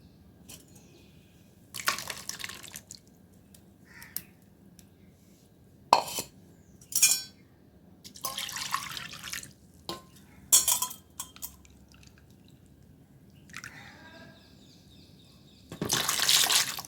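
Water is poured and stirred into a homemade organic iron fertilizer solution for garden plants, giving intermittent splashes and clinks of a container in bursts, close and fairly quiet, with no talk.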